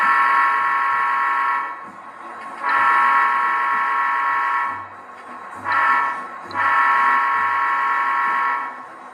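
A model DCC sound locomotive, an Athearn SD40T2, sounds its Nathan M3 horn in four loud sustained chordal blasts, the second and fourth long, the third brief, with a faint engine rumble beneath.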